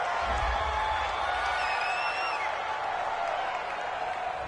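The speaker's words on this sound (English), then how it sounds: "This home crowd, they're happy with that call." A virtual home crowd in the Madden 20 football video game cheers and roars steadily for a few seconds after a penalty call, a dense sustained wash of crowd noise.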